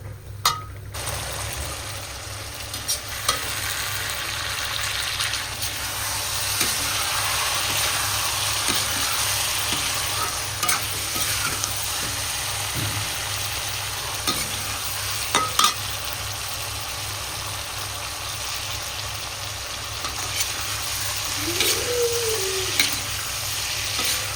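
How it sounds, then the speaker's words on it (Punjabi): Vegetables cook in a pan with a steady, moderate sizzle throughout, broken by a few faint clinks and taps. No one speaks. "ਆਪਾਂ ਸਬਜ਼ੀ ਧਰ ਦਿੱਤੀ ਤੇ ਹੁਣ ਇਹਨੂੰ ਢੱਕ ਕੇ ਰੱਖ ਦਾਂਗੇ"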